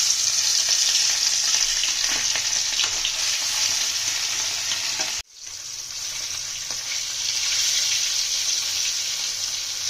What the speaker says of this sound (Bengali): আমাদের তেল গরম হয়ে গেছে, মাছগুলো দিয়ে দেবো।